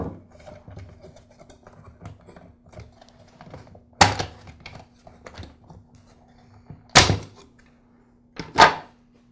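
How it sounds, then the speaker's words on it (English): A screwdriver pries apart the plastic motor housing halves of a Black and Decker CST1200 string trimmer, making light clicks and scrapes followed by three sharp cracking snaps as the halves separate. "I'll use a screwdriver to help split the two halves of the motor housing."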